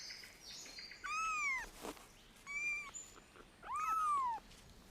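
Feral cat kittens in an Australian forest give three drawn-out, rising-and-falling meows at moderate distance, each about half a second long, separated by short gaps over faint background hiss.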